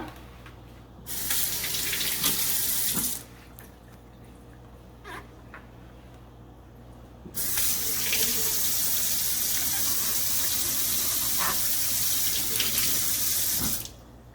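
Water runs from a tap and splashes in a sink while the soaking water is poured off fermented teff and barley injera batter, in two steady bursts with a quieter gap between them.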